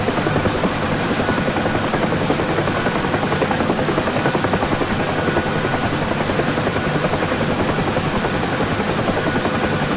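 A Huey helicopter in DCS World sets down for a landing, its rotor and turbine making a loud, steady, dense roar that holds for the whole stretch without letting up.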